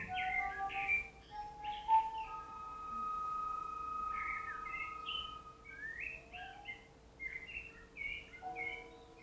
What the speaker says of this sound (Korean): 진짜 새소리고.